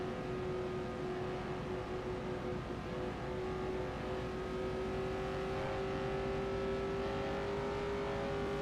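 A race car laps during the 1978 Indianapolis 500 time trials, its engine holding a steady, continuous high drone at speed, heard from a distance without voices.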